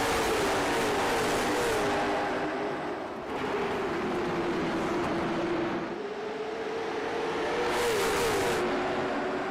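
Race cars roaring off together at a green-flag restart at New Smyrna Speedway in the iRacing sim, a loud continuous pack of engines revving and shifting as they accelerate, dense and close throughout.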